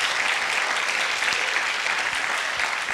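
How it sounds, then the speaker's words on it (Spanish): Dense, sustained applause from a large crowd honoring mission staff, a continuous wash of many hands clapping at once, loud and steady for the whole stretch with no voices on top. "Le damos un aplauso a los chicos ahí."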